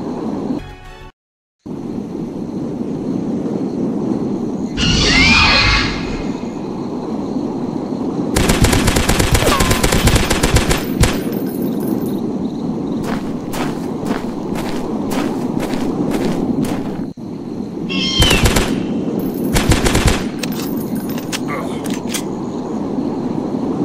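Gunfire in a dinosaur hunting video game, bursts of rapid shots and single cracks over a constant loud game background rumble.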